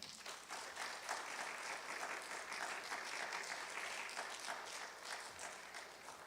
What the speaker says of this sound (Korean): 큰 박수로 우리 목사님을 환영하도록 하겠습니다